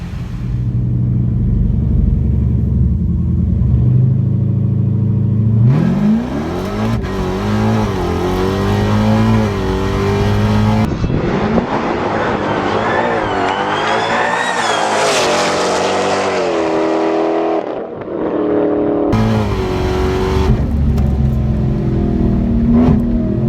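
A 1000HP Dodge Charger Hellcat races two fast Mustangs, its engine roaring loud and close through repeated rising gear pulls, whining and revving hard with brief shift breaks, no talk.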